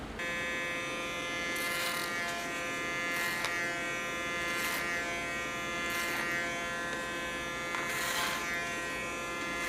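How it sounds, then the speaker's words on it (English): Electric hair clippers buzz steadily at close range, cutting hair in a clipper-over-comb style, with several brief brighter bursts of higher buzzing spaced a second or two apart. "Do it in a clipper over comb technique because I want to have soft lines"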